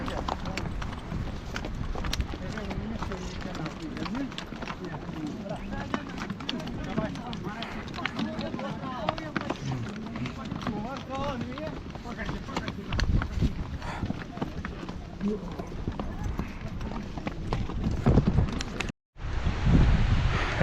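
A nine-year-old horse's hooves clip-clop steadily along a glacier trail high on a mountain pilgrimage route, with wind buffeting the microphone and people talking throughout; a brief dropout near the end.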